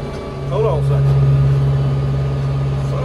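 A truck passing by on a rural road near a hay field, a low engine hum swelling after half a second and holding steady, with someone talking over it.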